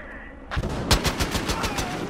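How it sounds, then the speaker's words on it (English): Rapid bursts of automatic assault rifle fire in the multiplayer shooter Battlefield Hardline on PS4, about ten sharp close shots in quick rhythm following a brief low rumble. "assault rifle."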